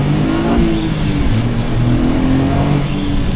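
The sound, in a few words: Toyota GR Corolla engine noise heard from in cabin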